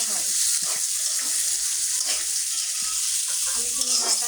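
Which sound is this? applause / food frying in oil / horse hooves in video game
food frying in oil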